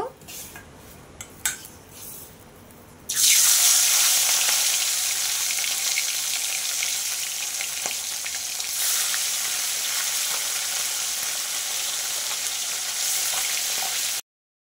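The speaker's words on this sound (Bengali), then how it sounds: "তো সবার প্রথমে আগে মাছটা ভেজে নেব।" Parshe fish drop into hot mustard oil in a kadai, bursting into a loud, steady sizzle and spitting that continues strongly after a quiet start with faint kitchen clatter.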